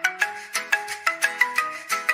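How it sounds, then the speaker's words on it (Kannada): A phone rings for an incoming call, a bright electronic ringtone pulsing in short, evenly spaced tones, clear and close, with no voices over it. "ಪದ್ಮಿನಿ ಅವ್ರು ಫೋನ್ ಮಾಡ್ತಿದ್ದಾರೆ."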